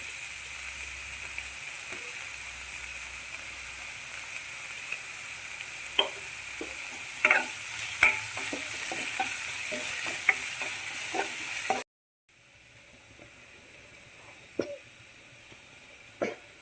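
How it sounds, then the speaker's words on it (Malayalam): Chopped spinach stems sautéing in hot oil give a soft, steady sizzle, broken by scattered spoon clicks and scrapes against the pan, with a short break partway through; no one speaks. "ചീരയുടെ തണ്ടാണ് നമ്മൾ ആദ്യം ഇട്ടൊന്ന് വഴറ്റണം ആ എണ്ണയ്ക്കകത്ത്"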